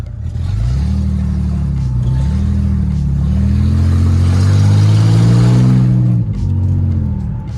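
An old, badly worn Mercedes-Benz with its stability control switched off accelerates hard in a short sprint, the engine note climbing through rising harmonics across several seconds, loud and close, with no talk over it.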